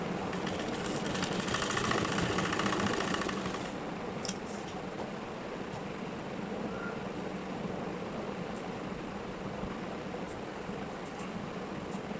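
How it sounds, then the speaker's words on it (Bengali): A sewing machine runs through a stitch in a steady mechanical whir, close and fairly loud for the first few seconds, then settling into a slightly quieter, continuous hum with no talking. "আমি হচ্ছে অফ ক্যামেরাতে একটা সেলাই করছি"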